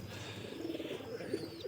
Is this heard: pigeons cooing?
yes